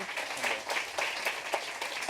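An audience applauds after an architecture and art conversation with Junya Ishigami and Jakob Kudsk Steensen, a fairly quiet, dense patter of many hands clapping continuously for about two seconds.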